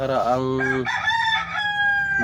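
A fighting rooster crows loudly and close, a long drawn-out call with rising and falling pitch that fills the whole moment.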